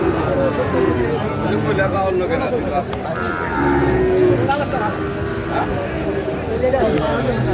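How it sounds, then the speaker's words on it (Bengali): A young Sahiwal bull calf moos at a cattle farm amid steady crowd chatter and nearby voices talking, the lowing blending into the continuous hubbub of people gathered around the livestock. "শাহিওয়ালা ষাঁড় বাচ্চা দেখছিলাম বেশ সুন্দর"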